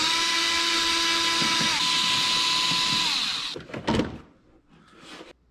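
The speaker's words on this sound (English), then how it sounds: "take off these two Allen head screws right here and here to take off the rear seat" Power tool on Allen head screws of a BMW K1200 motorcycle's rear seat, a loud, steady whirring drill-like whine that winds down and stops, followed by a few brief clanks and handling noises.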